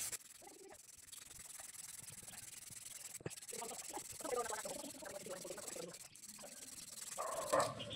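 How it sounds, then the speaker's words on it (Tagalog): Close, steady rasping of coarse sandpaper rubbed back and forth over a single-tub washing machine part in continuous strokes, with no talking. "lilihain lang natin yan"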